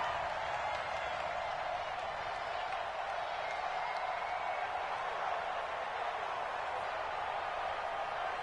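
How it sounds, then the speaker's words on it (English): Football stadium crowd roaring ahead of a big third down, a dense, sustained wash of cheering and applause from many distant voices, steady throughout. "the crowd getting into it as we come up on a big third down"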